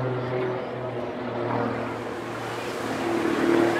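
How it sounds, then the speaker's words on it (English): The jet engines of a Jet Pitts aerobatic biplane roar as it climbs vertically at the Teignmouth Airshow 2023, a loud, sustained drone that swells and fades slightly with a low humming undertone. "Enormous vertical manoeuvres there, the jet engines are kicking it in the climb."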